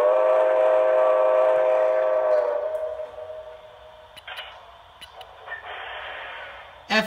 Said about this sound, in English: And then F2 is the whistle.